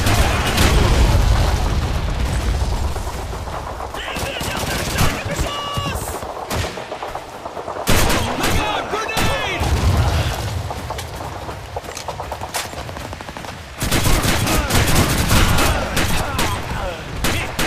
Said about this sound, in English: Drop frag grenade!